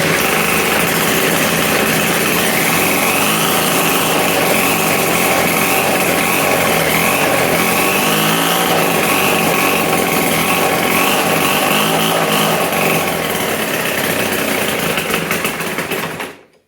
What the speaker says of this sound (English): So there you have it. Yeah, the chainsaw blender.